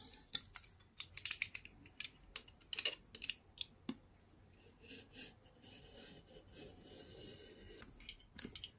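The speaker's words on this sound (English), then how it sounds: "everything what is over this edge, I'm cutting down with my craft knife" A craft knife trims paper edges of a handmade journal built from envelopes and newspapers, piece by piece, giving a run of close, dry scraping and rasping strokes in irregular bursts with no talk.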